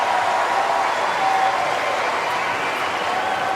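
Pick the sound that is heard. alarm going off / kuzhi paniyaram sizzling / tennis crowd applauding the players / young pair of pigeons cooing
tennis crowd applauding the players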